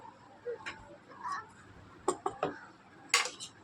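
A spoon scoops chow mein from a dish, giving a few light clinks and scrapes in short bursts, with a sharper cluster near the end over a quiet room.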